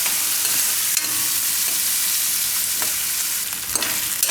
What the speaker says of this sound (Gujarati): ડુંગળીને થોડીક વાર પાકવા દેવું. 1 મિનિટ જેવું ફેરવી લેવું આમાં.